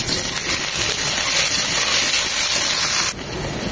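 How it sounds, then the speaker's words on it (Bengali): Ginger garlic paste fries in hot oil in a pan, a loud, steady, broad sizzling hiss that runs continuously and drops somewhat in level near the end, with no voices. "এটাকে 1 মিনিট ভেজে নেব, যেন আদা ঝাঁঝালো গন্ধটা চলে যায়"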